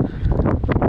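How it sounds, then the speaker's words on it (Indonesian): Strong wind gusts across a highland campsite in Cameron Highlands, a loud, continuous rushing buffet with microphone rumble and fluttering bursts, close and unbroken for the whole second. "angin kuat"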